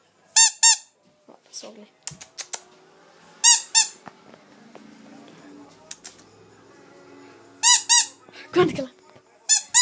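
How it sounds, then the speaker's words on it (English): A squeaky dog toy gives sharp, high squeaks in short paired bursts at a chihuahua's playtime, separated by quieter stretches, with people talking in between. "I got a squeaky toy."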